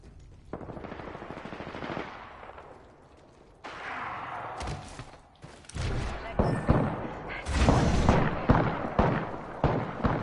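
Gunfire in the video game Apex Legends as players shoot at a supply pack, with bursts of rapid automatic shots and heavy impacts that come and go, loud and close, with voices mixed in.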